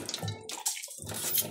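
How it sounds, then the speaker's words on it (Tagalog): Tap water gushes into a cooking pot in a home kitchen, a short close splashing stream that briefly pauses before continuing. "Lagyan ko lang ng tubig."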